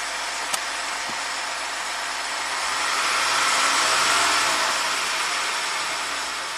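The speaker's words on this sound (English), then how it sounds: "It rattles pretty bad until the cats warm up and the exhaust cams return to default position." A Jeep Rubicon engine idles cold with a harsh, broadband rattling hiss until the catalytic converters warm and exhaust cams return to default, fairly close, with a faint click near the start and a slight swell midway.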